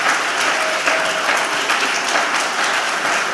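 Sustained, dense audience applause fills a public meeting on neighborhood rezoning, a loud steady wash of many hands clapping that carries on evenly with no speech over it.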